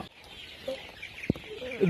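Kadaknath chickens cluck on a small farm, with soft, scattered clucks and a sharp peck or knock midway, all fairly faint against a steady background hiss.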